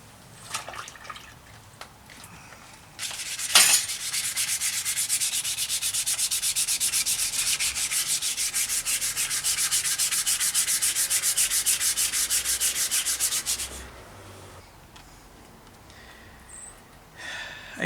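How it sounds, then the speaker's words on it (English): Steady, close hand sanding of bicycle crank arms, a Suntour XC Pro set from a Schwinn Series 90 PDG mountain bike, as a continuous dry rubbing scrape that runs about ten seconds, framed by brief quieter handling noises. "Yep, a lot of sanding."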